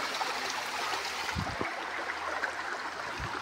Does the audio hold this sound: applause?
no